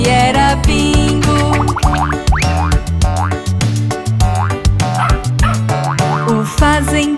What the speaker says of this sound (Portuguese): O fazendeiro tinha um cão, seu nome era Bingo